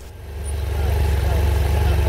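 An escort vehicle for a motorcycle convoy in Balochistan, Pakistan, rolls up and idles, its low engine hum swelling slightly and then holding steady close by.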